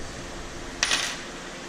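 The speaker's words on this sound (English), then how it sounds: "okay, my drags just fell out" Small metal drag washers from a Penn 114 Senator fishing reel drop out onto a hard surface, a brief bright metallic clatter lasting about a quarter second amid quiet room tone.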